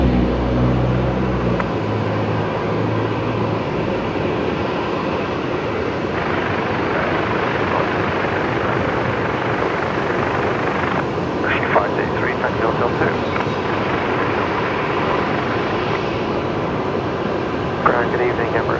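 Velocity 73 arriving at Brisbane Airport in the evening, a steady loud roar of aircraft engines that holds throughout, with voices talking over it at times.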